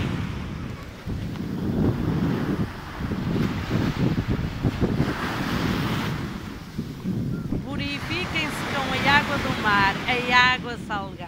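Sea waves washing onto the beach at Praia de Angeiras Norte, with gusty wind buffeting the microphone throughout; a voice speaks near the end over the surf.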